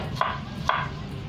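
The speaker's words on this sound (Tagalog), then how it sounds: "So, hiwa-hiwain natin siya para mas madali siya." A knife chopping green and brown compost material, heard as two distinct, moderately quiet cuts about half a second apart over faint background noise.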